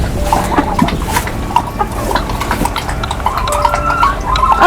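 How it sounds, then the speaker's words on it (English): Chickens cluck and chatter inside a farm coop, a busy, close mix of overlapping calls and short squawks against scuffling background noise, no talking. "There's one chicken in here now."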